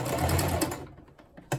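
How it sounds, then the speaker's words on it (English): A sewing machine back stitching a seam on upcycled jeans, a fast steady mechanical whir that runs loud for most of a second and then stops, followed by a few soft clicks and a short burst at the end. "I'm going to back stitch again"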